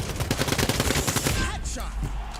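Rapid gunfire from Quantum League rattles in dense automatic bursts for over a second, then thins into a few scattered, quieter shots.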